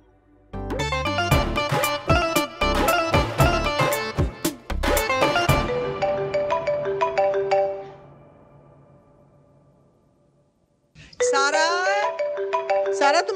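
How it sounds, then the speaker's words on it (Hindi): Mobile phone ringtone for an incoming call, a bright melodic tune playing loudly for several seconds, fading, then starting again after a short gap, with speech around it. "तुम्हारा फोन आ रहा है।"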